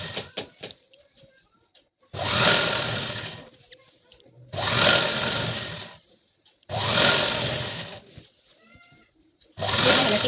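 A sewing machine stitches a strip of blouse fabric in four loud bursts of rapid running, each lasting about one and a half seconds with quiet pauses between, and faint handling noises in the gaps.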